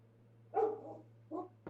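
A dog barks twice, close and fairly quiet, then gives a short clipped sound against a low steady hum.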